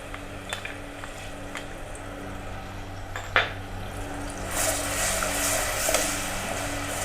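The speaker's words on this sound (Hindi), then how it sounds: "ऑयल गर्म हो गया है, हम इसमें डालेंगे प्याज का पेस्ट" Onion paste dropped into hot oil in a pan while cooking saag qeema (spinach and mutton), a soft tap then a broad steady sizzle that swells and holds toward the end, fairly quiet with no talk.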